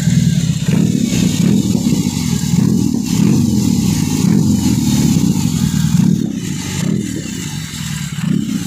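A BMW R18 First Edition motorcycle with slip-on exhausts revs in gear at a shop, a loud, deep, rumbling engine note blipping up and down continuously up close, with no talking.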